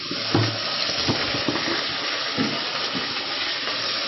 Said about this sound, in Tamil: எப்பவுமே வெங்காயத்தை போட்டவுடனே பார்த்திங்கன்னா கொஞ்சம் உப்பு சேர்த்துக்குங்க. ஏன்னா வெங்காயத்தோட உப்பு சேர்ந்து வதக்கினா கொஞ்சம் நல்லாயிருக்கும்.